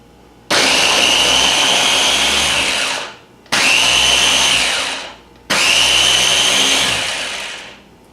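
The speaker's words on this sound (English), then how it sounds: "Now I'm going to puree the cauliflower." A food processor or blender whirs as it purees cauliflower florets in three loud, close bursts of a few seconds each, every one starting sharply and winding down before the next begins.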